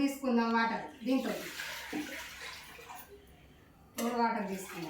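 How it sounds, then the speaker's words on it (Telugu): Water pours into a kadai (wok) as a loud, hissing splash in the middle of the stretch, with a person talking before and after it. "ఇప్పుడు మనం వాటర్ పోసుకుందాం."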